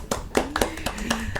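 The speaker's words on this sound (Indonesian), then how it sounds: "Boleh tepuk tangan untuk menutup perjumpaan kita hari ini." Closing applause at a community talk show: a handful of separate, fairly close claps scattered over a short stretch, with a voice speaking over them.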